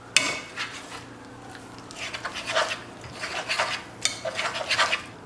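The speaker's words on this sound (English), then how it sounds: "I'm actually going to get a potato masher and mix this up a bit more with that" A potato masher works lumpy potatoes in a pot, giving close, irregular bursts of scraping and clanking against the metal, separated by short quiet gaps.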